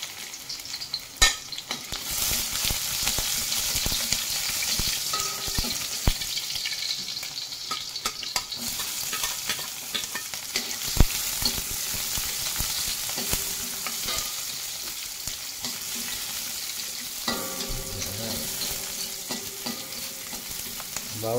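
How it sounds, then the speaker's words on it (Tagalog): Garlic, onion and chilli sautéing in a pan, a continuous close crackling sizzle with repeated scraping and clinking of a spatula stirring throughout, no voices. "Unahin muna natin yung ating bawang."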